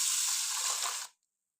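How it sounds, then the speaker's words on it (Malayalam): A close, steady stream of water pours into a glass holding raw rice for about a second, then stops abruptly, leaving silence. "അതിലോട്ട് നമുക്ക് 1 കപ്പ് വെള്ളം ഒഴിക്കാം."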